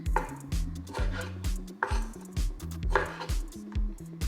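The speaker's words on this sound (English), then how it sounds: "Now we're gonna chop them. As I want the broccoli to be pretty small." A knife chops fresh washed broccoli into small pieces on a board, steady rhythmic thuds about three per second, close and clear with no talking.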